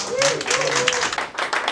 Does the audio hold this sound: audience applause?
yes